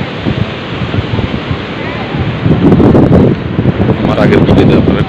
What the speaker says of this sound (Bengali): এটা হচ্ছে আমাদের কক্সবাজারের সমুদ্র সৈকত।